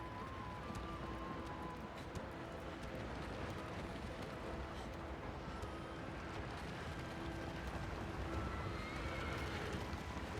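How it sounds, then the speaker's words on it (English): A horse gallops with steady hoofbeats and lets out several whinnies in the video game Shadow of the Colossus, set against a constant background ambience. "Run faster, damn you, horse."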